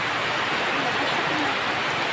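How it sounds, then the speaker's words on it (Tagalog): Heavy rain pours down in a dense, constant hiss of drops, loud and even from start to finish. "Ang lakas ng ulan oh."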